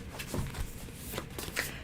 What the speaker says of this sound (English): I just have these two to shuffle